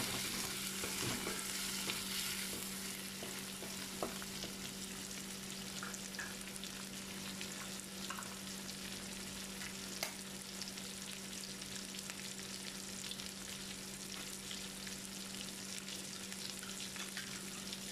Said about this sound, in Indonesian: dia masak dahulu udang